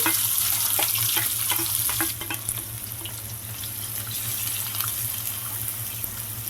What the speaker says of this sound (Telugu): ఇది మగ్గి చక్కగా వేగిపోయి గోల్డెన్ కలర్ వచ్చేంత వరకు వేయించుకుందామండి